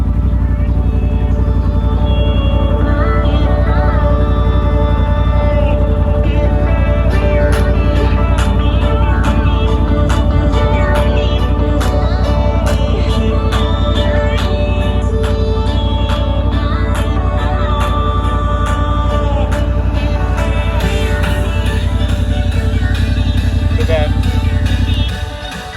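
A side-by-side UTV with an RJWC exhaust idles with a loud, continuous low rumble while music plays over an aftermarket sound system, both steady and close throughout.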